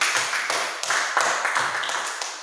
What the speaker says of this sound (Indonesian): Oke, tepuk tangan buat kelompok 1.